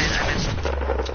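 Gunfire from a burst-fire weapon in a video game, loud and dense for about a second, with rapid shots blurring together into a continuous close-range crackle.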